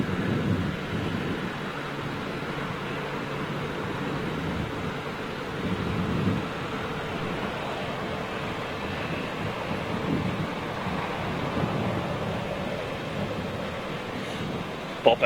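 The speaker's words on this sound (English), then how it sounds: "Thunder!" Thunder during a storm at Heathrow Airport rolls on as a deep, continuous rumble mixed with wind and rain-like wash, sustained and fairly loud with no clear breaks.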